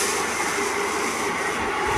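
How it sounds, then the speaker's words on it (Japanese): A train bound for Izumi-Chuo, Sendai, rumbles into platform 2 with a broad, steady rush of noise, fairly loud and close, as it comes in behind platform doors. "2番線に泉中央行き電車が到着します。"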